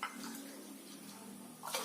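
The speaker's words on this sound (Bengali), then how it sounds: "এবারে এই জলটা এর সঙ্গে এবার মিক্সড করে দিচ্ছি।" Water being poured and stirred into lemon sharbat in a glass or jug, a steady close liquid swirl and slosh lasting the whole moment with a brighter splash near the end, no one talking.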